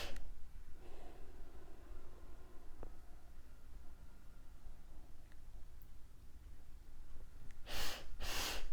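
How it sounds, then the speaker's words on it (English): Slow, deep breathing during a guided breathing exercise: soft, airy breaths over a quiet hiss, with two stronger breath bursts close together near the end. "Stay with this breathing pattern, even if your mind wants to start engaging in other thoughts."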